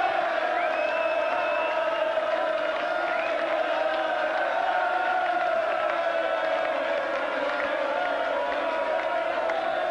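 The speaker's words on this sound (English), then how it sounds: "There's the crowd, getting more cheers than the players." A packed crowd at a 2006 World Darts Championship first-round match cheers and whoops continuously, a loud, dense wall of voices that holds steady for the whole stretch with no pauses or separate announcements.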